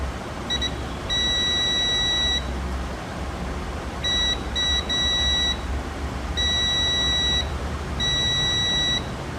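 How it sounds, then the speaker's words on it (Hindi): Continuity beeps from a multimeter as its probes touch the leads of a motorbike stator coil, sounding in several steady high-pitched tones of varying length with short gaps between, loud and clear with no talking. "जब भी हम लोग इसको कनेक्ट करते हैं तो वहाँ पर बीप की आवाज़ सुनाई देती है हमें मल्टीमीटर में"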